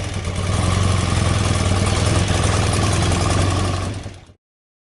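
Motorcycle engine idling low and steady at close range, a rough continuous rumble that cuts off abruptly near the end.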